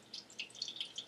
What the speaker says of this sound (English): Let that last little bit of grease drip off of there.